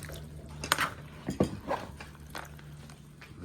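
A special sauce of soy and green chili is stirred in a bowl, giving a few scattered utensil clinks and scrapes against the dish over a quiet kitchen background.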